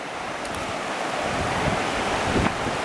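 Fast-flowing river water rushes steadily in the open air with gusting wind buffeting the microphone, a constant broadband roar, close and loud, with no voices.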